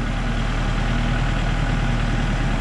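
A Kubota L4060 tractor engine idles at raised throttle, a steady, loud, low rumble with even vibration and no change in speed, heard close with no talk.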